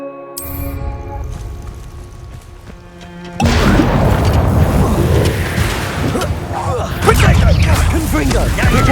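A Confringo blasting spell bursts with a loud, sudden boom in Hogwarts Legacy, cutting in over quieter music and followed by a dense crackling, rumbling wash of destruction.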